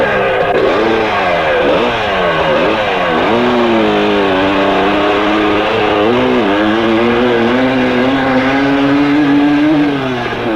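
Engine revs steadily as more gas is fed, the loud pitch rising and wavering in repeated swells for about ten seconds, with no talk over it.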